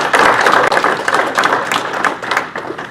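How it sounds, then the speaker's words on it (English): Audience applause at a Northern Michigan economic forecast business event, a dense, steady wash of many hands clapping throughout, loud and close, with no voices over it. "Big round of applause for him."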